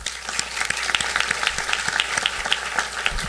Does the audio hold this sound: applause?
yes